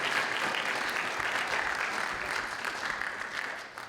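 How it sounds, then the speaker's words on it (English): An indoor audience claps warmly for about four seconds, a dense, steady round of applause that slowly fades toward the end. "Sir Barry Maloney, let's give him one more round of applause"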